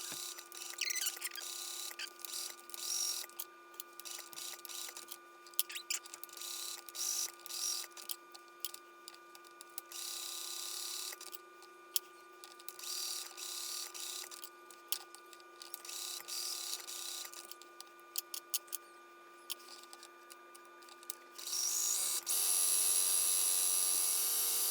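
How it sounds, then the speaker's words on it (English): A home sewing machine runs a straight stitch around a pet-themed fabric stocking, a steady mechanical whir with brief pauses between runs, close and fairly quiet with no talking. "My machine is set for a straight stitch. I'm gonna stitch all the way around first"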